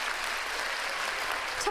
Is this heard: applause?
yes